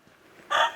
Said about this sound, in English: She's a good chicken.